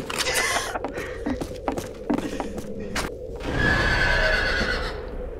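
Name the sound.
horse neighing in video game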